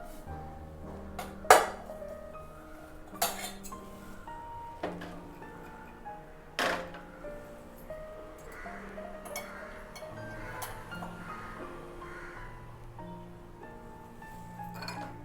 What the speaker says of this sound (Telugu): దీన్ని ఇప్పుడు వడపోసుకుందాం.